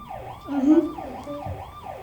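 An ambulance siren wails in a repeating rising-and-falling pattern, loud and fairly close, with no voices over it.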